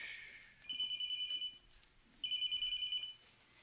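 A phone text message alert sounds indoors as two bursts of electronic tones, each close to a second long, separated by a short pause and clear and fairly close against a quiet room.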